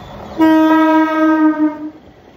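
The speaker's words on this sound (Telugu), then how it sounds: "ట్రైన్ వస్తుంది. రైలు ఇది మెట్రో" A loud, steady metro train horn blares for about a second and a half as the train arrives, then cuts off, leaving faint rumbling background.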